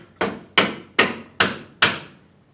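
Five evenly spaced hammer blows strike metal, knocking a part into place on a Willys Jeep, each a sharp ringing knock that fades quickly, close and loud.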